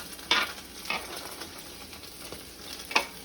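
Codfish fries in hot oil in a pan, sizzling steadily and close, while a few sharp scrapes and stirs of a utensil break through at intervals.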